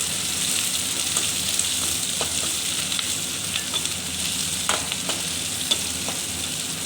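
Chillies sautéing in a pan for okra tamarind curry, giving a close, even sizzle and crackle with scattered pops and stirring scrapes, no voices over it.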